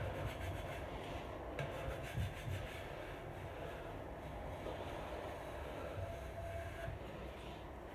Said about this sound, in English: this is coming up dry, so I could keep scraping it